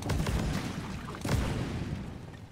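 Explosions go off in the cave-mining video game Deep Rock Galactic: a couple of heavy booming bursts with crackling debris, the first right at the start and another about a second later, then a fading rumble.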